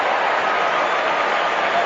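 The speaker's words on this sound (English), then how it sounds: "Every time he gets near it, the crowd rises." A big stadium crowd roars steadily at a West Coast Eagles versus North Melbourne AFL elimination final, a broad, loud wash of cheering that holds without a break.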